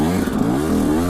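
A KTM 125 SX two-stroke motocross bike fitted with a slick tyre runs with a steady, buzzing engine note that rises and falls slightly, close and loud throughout the short stretch.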